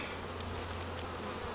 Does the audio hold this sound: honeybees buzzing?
yes